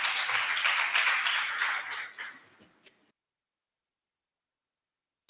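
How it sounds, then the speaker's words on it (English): Applause from the audience for the panelists at a Mediterranean Blue Economy conference. A fairly loud patter of clapping fades out over about three seconds and is followed by silence. "A round of applause, please, for all our panelists"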